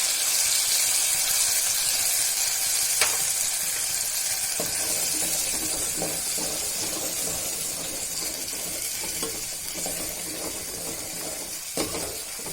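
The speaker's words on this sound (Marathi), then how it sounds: "थोडा फ्राय झाला की त्यात अद्रक लसूण आणि खोबऱ्या त्याची पेस्ट" Ginger, garlic and coconut paste sizzles steadily in a hot pan for mutton curry, a continuous close frying hiss with occasional louder spits and crackles.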